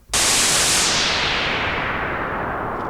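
White noise sweeps downward as a low-pass filter closes, starting as a loud full-band hiss and growing duller and darker over about three seconds, with no talk.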